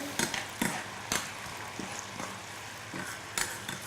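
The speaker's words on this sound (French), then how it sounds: "on va tout simplement déglacer avec le vin blanc. Il est beau ce bruit" White wine hitting a hot pan to deglaze it while preparing a sole fillet dish, giving a steady close hiss of sizzling broken by several sharp clinks and scrapes of a utensil, with no talking.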